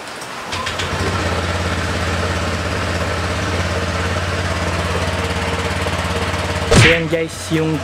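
A Honda Click scooter about a month old idles steadily and fairly close by with a low, even engine drone, then a brief louder burst near the end.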